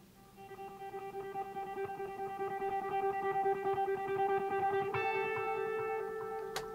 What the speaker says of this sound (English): It's another guitar line.